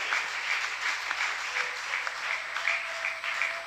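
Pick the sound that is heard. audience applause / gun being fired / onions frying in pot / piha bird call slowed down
audience applause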